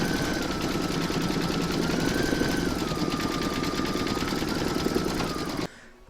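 Embroidery machine stitching an in-the-hoop coaster with light blue thread: steady, rapid mechanical stitching hum with rhythmic needle ticks, close and continuous, stopping abruptly near the end.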